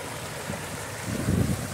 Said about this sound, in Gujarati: આ પાણીનો ફોસ આવે છે જેવો ખાલી